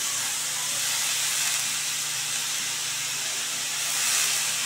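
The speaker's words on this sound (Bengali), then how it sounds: "সঙ্গে আমি এবার ক্যাবেজটাকে অ্যাড করে দিচ্ছি।" Cabbage sizzles in a hot pan, a steady broadband hiss holding continuously at moderate loudness with no voices over it.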